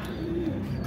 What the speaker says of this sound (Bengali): এখানে এটা আছে ফোস্টারিংয়ের এক জোড়া কবুতর।